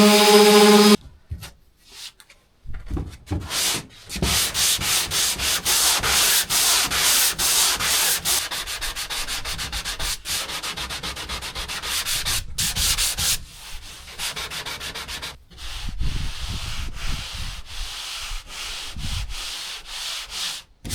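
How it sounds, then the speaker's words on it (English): A cedar strip canoe's fiberglass is sanded by hand in long, steady rasping strokes, close and continuous with brief pauses between passes, no talking. "The sanding process has proven to be rather tedious"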